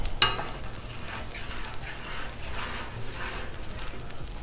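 Beef fried rice with oil on a Blackstone griddle, frying in a soft, steady sizzle with crackles and scraping stirs, beginning with a sharp clack.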